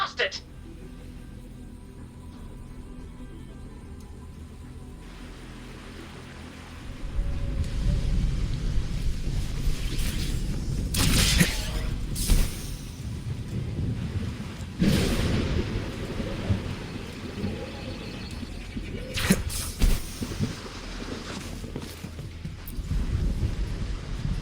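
Stormy seas in the video game Wuthering Waves: rain and wind hiss quietly at first, then thunder and heavy rain swell loud, with sharp cracks of thunder breaking through repeatedly.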